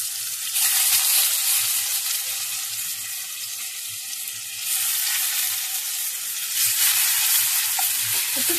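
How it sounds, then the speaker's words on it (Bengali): Boiled mushroom pieces fry in hot oil in a kadai, making a loud, continuous close-up sizzle that swells and eases in waves, with no talking. "একটু ফ্রাই করে নেবো মাশরুমগুলো।"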